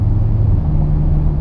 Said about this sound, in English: But listen to that, driving to the freeway. I'm in cruise control in the Geo Prism